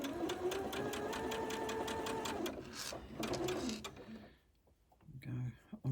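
A sewing machine fitted with a quarter-inch foot stitches quilt block pieces in a steady run of whirring bursts for about four seconds, then goes quiet before a short final burst.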